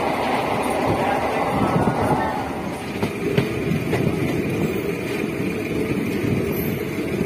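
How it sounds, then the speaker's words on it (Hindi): A MEMU passenger train runs between Delhi stations, heard from inside as a continuous rumbling roar with faint rhythmic rattles and clacks from the carriage, speech murmuring underneath. "ये हमारी ट्रेन चल पड़ी है।"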